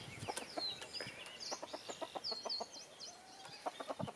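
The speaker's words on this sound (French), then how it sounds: "on est tout de suite envahi par les coqs et les poules" Chickens and roosters cluck and call in a busy cluster close by, sharp repeated clucks with brief higher squawks and a drawn-out note, steady throughout with no talk.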